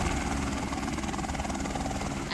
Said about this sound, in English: the Bernalillo County Sheriff helicopter played a key role in that rescue